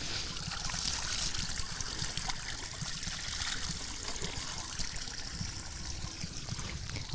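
Steady water trickling and splashing at a village water reservoir, a continuous close, even flow with no talk over it.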